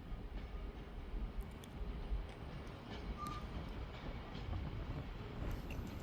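A CrossCountry train pulls out of Manchester Piccadilly station, a faint, distant rumble with light wheel clatter and a brief squeal, steady over the whole stretch.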